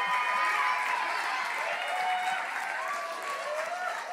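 A church congregation at a Monday night service applauds Jonathan Stamper, a continuous crowd clapping with a few faint cheers and some tonal sound running underneath throughout.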